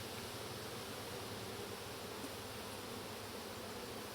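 Honey bees buzz in a dense, steady swarm hum during a summer hive inspection, close and continuous with no talking.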